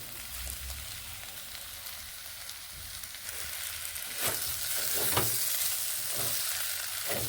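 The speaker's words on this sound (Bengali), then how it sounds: "পোস্তদানা দিয়ে আরও কয়েক সেকেন্ড বেশ ভালোভাবে একটু ভেজে নিচ্ছি তিরিশ থেকে চল্লিশ সেকেন্ড এইভাবে নেড়ে ভেজে নেব" Onion stalks fry with poppy seeds in a pan, a loud continuous sizzle broken by scraping stirs that grow more frequent toward the end, with no voices.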